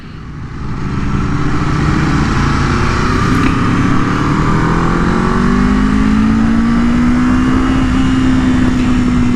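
An Aprilia RSV4 Factory motorcycle accelerates on a race track, its engine note rising steadily in pitch through a loud, close, continuous roar.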